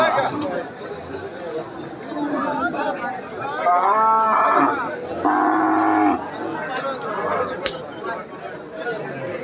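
Cows at a crowded Bangladeshi cattle market give two drawn-out moos one after another at moderate distance, over a steady hum of chatter and crowd noise.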